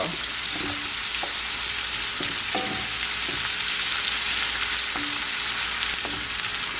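Onions frying in a pan, a dense continuous sizzle with a few scrapes and stirring knocks, close and steady, with no voices.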